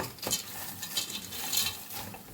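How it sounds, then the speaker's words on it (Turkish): Pasta cooking in a tomato sauce is stirred around a pot with a utensil, giving soft scraping and wet clinks in several uneven strokes close by, with no talking. "Şöyle bir karıştırıyorum sosla birlikte"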